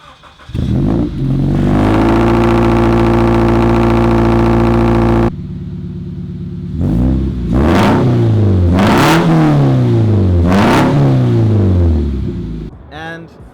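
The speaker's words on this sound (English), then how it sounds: "the car is really loud right now at the moment" A Scion FR-S with a loud exhaust holds a long, steady rev, drops off, then gets blipped several times in sharp, rising bursts, close and very loud.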